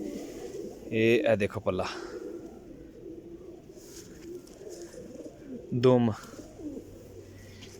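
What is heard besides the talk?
desi pigeon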